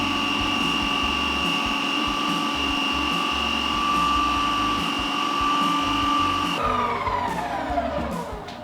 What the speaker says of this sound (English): Okay, one more respin